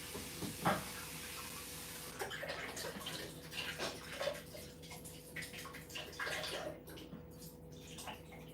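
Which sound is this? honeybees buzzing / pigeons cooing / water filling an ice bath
water filling an ice bath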